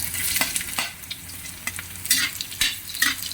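Ginger fries in rendered pork fat for Bicol express, crackling in uneven bursts of loud sizzle alongside quick scraping stirs close by, with no talking.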